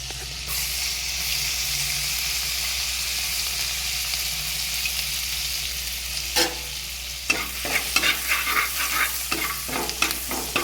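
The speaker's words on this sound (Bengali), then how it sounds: "অল্প তেলের সাথে বাটার দিলে বাটারটা পুড়ে যায় না। গ্যাসের ফ্লেমটা সিমেই রাখা আছে। দিয়ে দিচ্ছি আদা রসুন কুচি," Chopped ginger and garlic frying in oil with butter on a simmering gas flame give a steady close sizzle, then several distinct spatula scrapes and clatters against the pan in the last few seconds.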